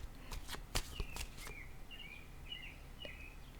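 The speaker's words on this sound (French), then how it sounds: "J'entends les petits oiseaux en arrière, j'adore." Small birds chirping faintly in the distance outdoors in Quebec, short thin calls over quiet background with a few sharp clicks and rustles nearby.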